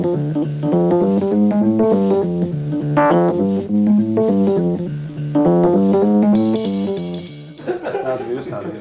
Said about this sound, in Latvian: Tādēļ, lai skan mūzika.